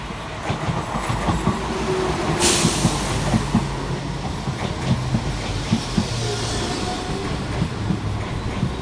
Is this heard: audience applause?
no